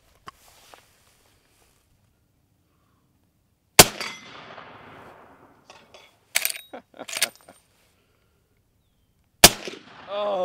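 A Henry X Model 45-70 lever-action rifle fires at steel gongs outdoors, three loud sharp reports a few seconds apart, each with a ringing metallic clang, with voices talking after the shots.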